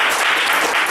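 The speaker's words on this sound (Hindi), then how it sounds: "और सर के लिए भी एक बार जबरदस्त ताली चाहूँगा" Dense applause from an event audience fills the moment, a steady close wash of many hands clapping at once with no voices over it.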